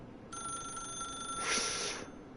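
A telephone rings in the video game The Stanley Parable Ultra Deluxe, a steady electronic bell tone that sustains for about two seconds with a brighter burst near the end, clear and alone.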